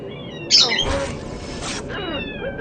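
A cat in a room lets out a short, high meow-like cry, followed by a rising call and a brief scratchy burst, heard close and alone without talk.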